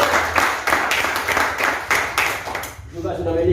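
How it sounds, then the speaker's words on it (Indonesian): A school audience at a teachers' introduction event claps together in a dense burst of applause that carries on for about three seconds, then cuts off and gives way to a voice. "Berikan tepuk tangan kepada Bapak itu."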